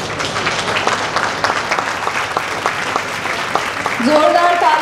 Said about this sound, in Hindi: जोरदार तालियां for cabinet minister of Uttarakhand Shri Harak Singh Rawat ji